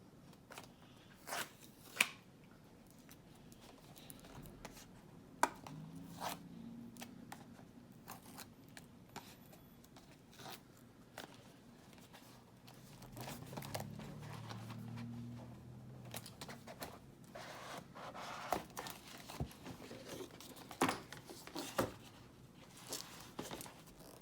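A cardboard box of Traxxas light parts being opened, with faint scattered crinkles, taps and paper rustles spread across a quiet stretch, some low murmuring in the background.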